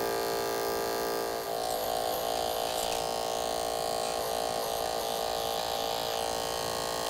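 Electric hair clippers cut hair in a close, steady, loud buzz that runs the whole time, with slight changes in texture as the blades move through the hair.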